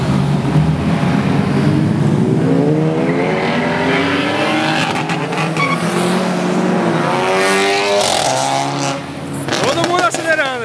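Sports cars accelerate along Avenida Europa in São Paulo, engines revving hard and rising in pitch through several gear-like sweeps, loud and close with a brief tire squeal, while someone talks over the traffic.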